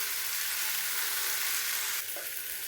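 Onions and tomatoes sauté in a pan on a gas stove, a steady broadband sizzle with soft stirring scrapes, close and continuous; the hiss drops slightly near the end.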